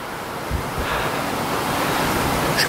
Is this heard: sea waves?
yes